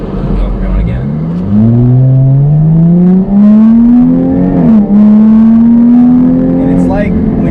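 A supercharged Jaguar F-Type V6 sports car revs loudly and close up, its exhaust note climbing through repeated long pulls with a brief dip between them.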